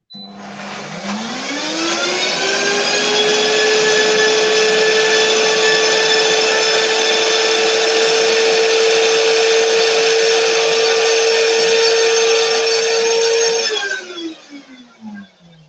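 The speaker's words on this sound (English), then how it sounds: "If you put more ingredients, they're going to blend better." Optimum G2.6 blender blending pumpkin carrot pulp muffin batter, the motor whirring up to a loud, steady high-pitched roar for about twelve seconds before winding down, with no talk.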